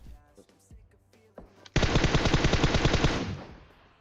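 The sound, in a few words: gunfire in the video game PUBG Mobile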